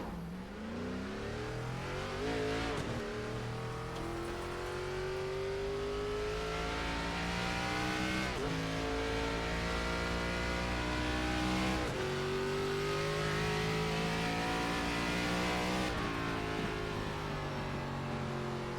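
An ARCA race car in the iRacing sim game drives on track at IRP, its engine droning loud and constant with rising pitch sweeps as it accelerates and shifts, no talk over it.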